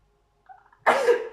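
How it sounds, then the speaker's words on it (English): A brief faint hum, then a single loud, close sneeze bursting out and trailing off. "I'm sneezing."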